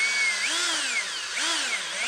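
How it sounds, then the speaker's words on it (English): A power drill whines continuously, its pitch rising and falling twice as it speeds up and slows under load. "Take a drill,"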